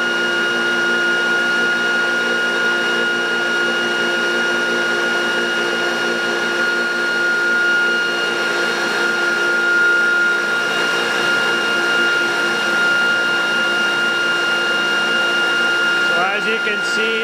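An electric bike hub motor running in normal motor mode without regenerative assist gives a steady, loud whine with layered tonal hum, unchanging throughout, with a brief clatter near the end.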